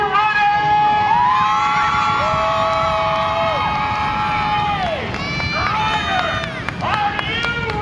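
Crowd at a Skowhegan State Fair demolition derby screaming and cheering at night, a loud sustained roar of shouts and whoops that swells and fades over several seconds.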